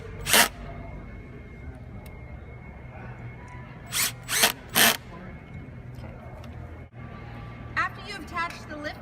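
Power drill driving screws while a children's table is assembled, several short whirring bursts separated by pauses, fairly close, with a person talking throughout.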